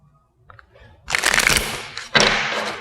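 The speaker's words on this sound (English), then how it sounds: "Sorry about the shuffling." A deck of Rider-Waite tarot cards is shuffled close by, with soft rustles at first, then two loud bursts of riffling and snapping card edges.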